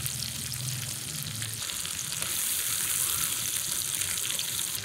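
Ginger, onion and garlic paste hits a hot wok with tomato, giving a steady close sizzle and hiss that grows a little louder partway through, with faint stirring and no talk.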